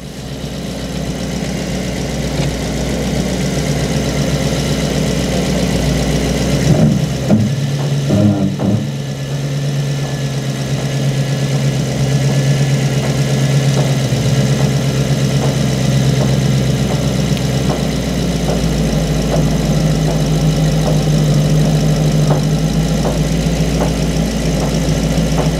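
A Volkswagen Caddy fitted with an Audi A6 V8 engine, in fully working condition, runs close by with a steady, loud low rumble throughout, broken by a brief irregular burst partway through. No voices are heard.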